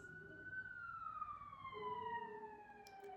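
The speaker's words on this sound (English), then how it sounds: "Hold on, I'm going to let the siren pass." A wailing siren sweeps up and down, fairly distant and steady over low traffic rumble, slowly fading as it passes.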